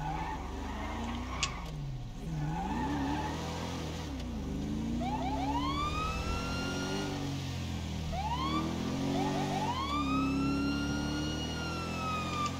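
A police car siren in a driving video game, wailing in rising and falling sweeps over a steady engine drone, loud and continuous throughout, with no talk.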